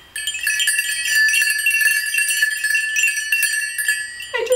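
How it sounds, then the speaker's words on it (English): Vintage bell rings out bright and sustained, its clear metallic tones layered and steady for about four seconds before a brief softer sound at the end. "I love vintage bells."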